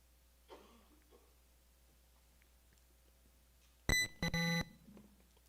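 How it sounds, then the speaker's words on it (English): A quiz competition buzzer at a scholarship challenge sounds one loud, harsh electronic blast followed at once by a second sustained one, after a faint murmur of voices in an otherwise quiet hall. "Elliot Murray before the buzzer"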